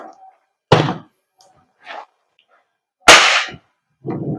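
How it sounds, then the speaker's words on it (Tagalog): An Umarex Glock 17 Gen 5 gas blowback airsoft pistol by VFC fires two sharp, close cracks with the slide snapping back, separated by a pause, with brief low murmurs in between. "Pulling back, rocking back the slide, and firing."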